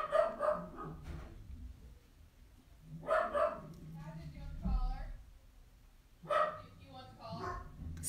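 A dog barks in several short bursts at irregular intervals, with a person speaking quietly in between.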